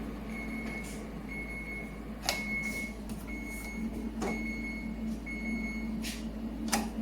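A Midea HC-689WEN side-by-side refrigerator gives a series of short, high electronic beeps at irregular intervals, with a few soft clicks and a low background hum.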